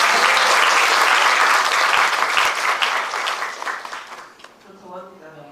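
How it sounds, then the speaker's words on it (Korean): Loud applause from an audience at a live book talk, a dense wash of clapping that holds steady for several seconds and then thins and fades out toward the end. "와, 박수 주세요."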